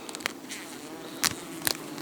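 Faint honeybee buzzing drones steadily around a log hive, with a few brief louder buzzes passing close by.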